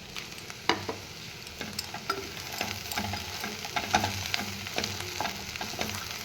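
Cauliflower being stir-fried with capsicum and onion in a hot pan sizzles steadily, with a spatula scraping and tossing in irregular strokes close by, and no talk.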